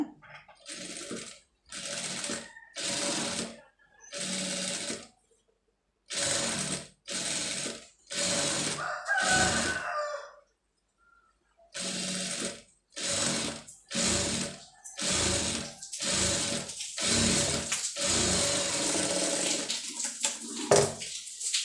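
A sewing machine stitches sleeve piping in about a dozen short, quiet whirring bursts separated by brief pauses, with no voices.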